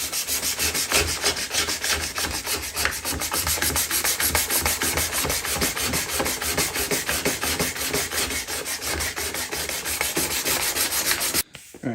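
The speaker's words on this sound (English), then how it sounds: "We're going to begin the process with 400 grit sandpaper." Sandpaper of 400 grit rubbed by hand over a car headlight lens, a steady close scratchy rasping in quick back-and-forth strokes that runs continuously with no talking.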